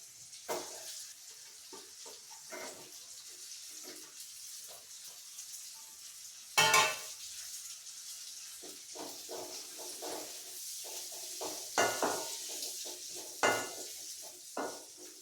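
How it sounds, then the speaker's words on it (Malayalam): Onion with ginger, garlic and green chili frying in a pan for a brinjal curry, with a soft steady sizzle and scattered scraping, clinking stirs of a spoon against the pan, no talking. "സവോളയും ഇഞ്ചിയും വെളുത്തുള്ളിയും പച്ചമുളകുമായിട്ട് നന്നായിട്ടൊന്ന് ഇളക്കി കൊടുക്കണം"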